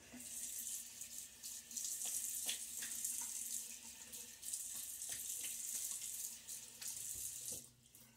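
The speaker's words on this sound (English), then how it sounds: "You can turn the water on more whenever you need to rinse that if you want." Sink tap running steadily during a wet shave with a razor, a soft continuous hiss of flowing water with brief splashes and clinks as the blade is rinsed, fairly quiet and close.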